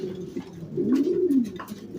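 A male pigeon on a pigeon farm coos in a low, rolling call that swells and fades over about two seconds, close and clear against quiet surroundings.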